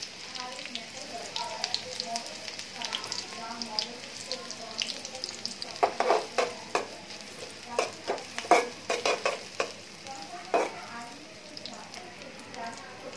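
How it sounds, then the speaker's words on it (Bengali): Mixed dried fish and onions fry in a pan with a steady sizzle and hiss, broken by bursts of stirring and scraping, while a voice talks over it. "পেঁয়াজের সাথে শুটকিগুলো ভেজে ফেলবো একটু, 5 মিশালি শুটকি।"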